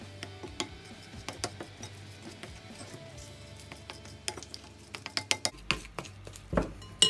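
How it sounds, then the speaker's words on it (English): A spoon clinks and taps against a bowl while cake ingredients are mixed, a series of sharp, irregular knocks that grow more frequent toward the end, close and clear over quiet background. "I'm going to mix them a little bit with a spoon"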